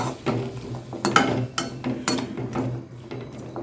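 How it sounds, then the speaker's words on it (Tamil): Tomato and onion sautéing in a little oil for a country chicken curry, with a spoon scraping and clinking against the pan in a steady stirring rhythm, close and moderately loud. "தக்காளி வெங்காயம் இதெல்லாம் வதங்குறதுக்கு கொஞ்சமாக எண்ணெய் சேர்த்து நல்லா வதக்கி எடுத்துக்கலாம்"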